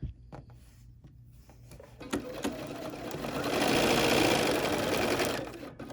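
A BERNINA sewing machine runs a few stitches forward and then backward, starting with sparse mechanical clicks and taps before the needle picks up into a loud, fast whirring run that fades near the end.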